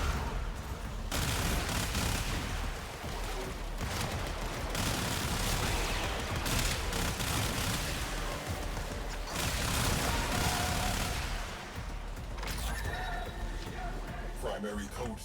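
Railjack torpedoes firing in Warframe, dense loud continuous barrages of blasts and rumbling impacts with a brief break, game voices speaking over the onslaught.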